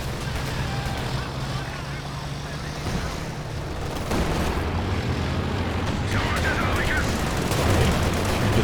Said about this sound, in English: big heavy mortar strikes